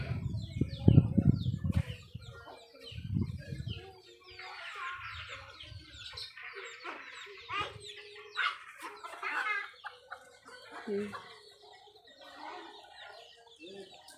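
Hens cluck in scattered, soft bursts outdoors during a light drizzle. A louder flurry comes at the start, then quieter, intermittent calls follow at a moderate distance.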